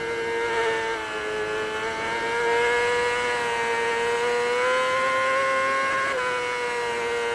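A 600cc racing motorcycle on a TT road-racing lap, its engine screaming near 16,000 RPM in a loud, continuous high-pitched wail that climbs through each gear, with a brief dip at a shift.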